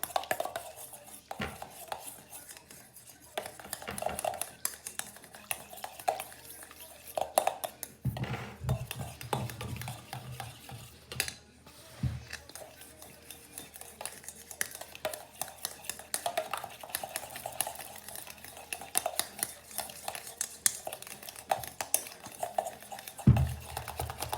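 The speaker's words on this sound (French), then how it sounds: "Et là, par contre, il va falloir bien mélanger." Homemade wet-look hair gel being mixed by hand in a bowl, with steady scraping and clinking of a utensil against the container, moderately close, in irregular bursts without speech.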